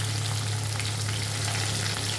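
Chopped onion fries with panch phoron in hot oil, a short burst of steady, loud, even sizzling over a low constant hum from a kitchen exhaust or stove.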